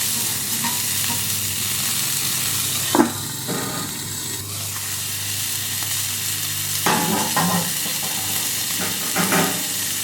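Cudighi sausage sizzles steadily on a Camp Chef FTG600 flat top grill, with a loud continuous hiss broken by a few brief scraping spatula stirs and flips.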